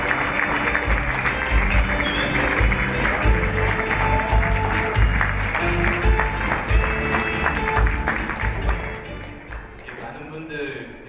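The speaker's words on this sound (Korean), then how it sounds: "여러분 큰 박수로 맞이해 주시면" A web awards ceremony audience applauds to welcome a lawmaker to the stage, sustained clapping under music with rhythmic beats, then tapering near the end as things quiet down.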